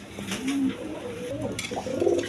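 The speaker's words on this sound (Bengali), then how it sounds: "এখানে এক পেয়ার রাসগোল্লা কবুতর আছে" A pair of big-sized Rasgolla pigeons, one male and one female, coo softly in low, rolling phrases, close by, with faint background noise.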